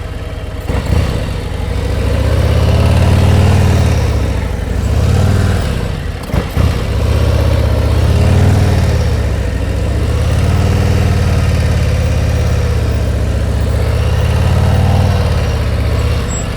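A motorcycle engine idles and putters during slow-speed riding practice, a loud, steady low rumble that swells and eases gently with the throttle, with a brief clunk partway through.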